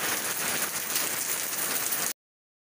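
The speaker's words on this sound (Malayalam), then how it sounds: "മഴ നല്ല തകർത്തന്നെ കഴിയാണ്." Heavy rain pours down steadily outdoors in Kerala, a dense, even hiss of drops striking surfaces that runs loud and unbroken for about two seconds before cutting off abruptly.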